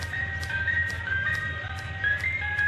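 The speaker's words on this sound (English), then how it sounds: "do I hear the ice cream truck?" An ice cream truck plays its jingle, a thin repeating electronic melody of short notes heard at a moderate distance over a low steady background hum.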